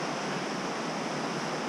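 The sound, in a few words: river flowing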